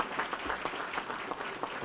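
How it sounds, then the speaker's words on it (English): Applause from an audience at a scholar athlete awards banquet, a dense steady patter of many hands clapping for about two seconds at moderate distance, with no voices on top. "give these young men another round of applause"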